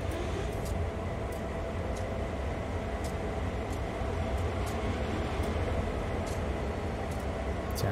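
A diesel locomotive in Train Sim World 2 runs after start-up, giving a steady, loud low rumble with constant engine drone and faint intermittent ticks above it, no talking.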